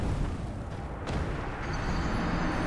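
In Dark Souls, a dragon breathes fire across the Undead Burg bridge, a dense roaring rush of flame with booming bursts that fills the whole stretch loudly and close, without any talk.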